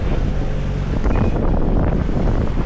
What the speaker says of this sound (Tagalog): sabi lakas na hangin